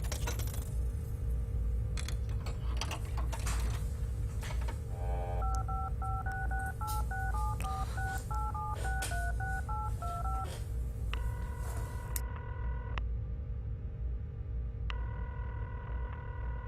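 DTMF telephone dialing tones in the video game Serious Sam: a rapid run of paired beeps, then longer steady tones, loud and clear over a constant low game hum.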